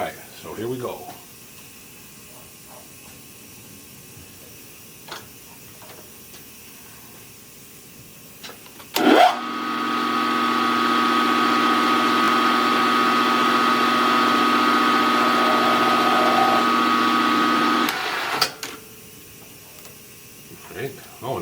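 A reamer drill bores into metal on a small lathe, giving a steady mechanical whine that starts suddenly, holds for about nine seconds and then stops, with quieter shop sounds before and after.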